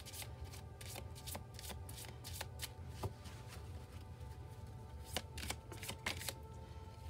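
Tarot wisdom cards shuffled by hand: quiet, irregular riffling and slapping of card edges in quick bursts, close and soft over a low room hum, with no talking.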